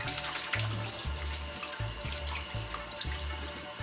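Tap water runs steadily into a sink while raw octopus is rinsed and rubbed by hand, the flow broken by repeated splashing and handling surges, with no talking.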